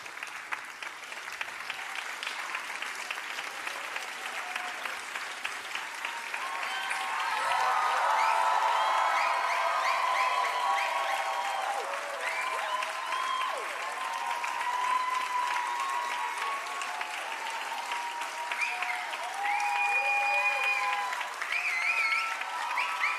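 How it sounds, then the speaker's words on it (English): Sustained, loud applause from a large audience giving a standing ovation after an Arangetram dance recital, steady clapping swelling midway with some cheering mixed in. "a standing ovation."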